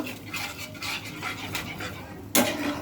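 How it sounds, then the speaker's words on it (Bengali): Mustard and poppy-seed paste with green chili being mixed with water in a metal bowl, soft repeated scraping and clinking of a spoon against the bowl, close but quiet, ending in a sharper knock, no voices. "আপনার পোস্ত কাঁচা লঙ্কা বাটাটা দিয়ে দেবো বাটিটা ধুয়ে একটু জল দেবো একটু ভালো করে মিশিয়ে নেব"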